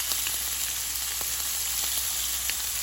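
Steak sears in a hot pan with a steady, dense hiss and crackle, a loud unbroken sizzle with faint pops scattered through it and no talking.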